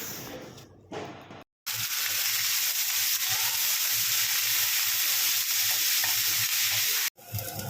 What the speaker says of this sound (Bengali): এই চিংড়িগুলোকে সবটা ভাজা করতে হবে বেশ সুন্দর করে ভেজে নিতে হবে